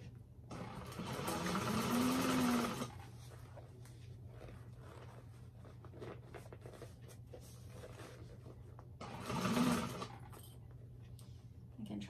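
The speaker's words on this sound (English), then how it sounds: "sew it with 3/8 of an inch seam allowance" A sewing machine stitches a bag seam in two bursts of motor whir, a longer run followed later by a brief one, with quiet room tone in between.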